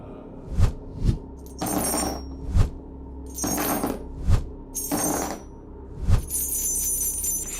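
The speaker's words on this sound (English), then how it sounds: "So Shakuni proposed a rigged game of dice." Dice thrown in a rigged game of dice from the Mahabharata: a handful of sharp clattering knocks at irregular intervals, each followed by bursts of rattling noise, with no talk over it.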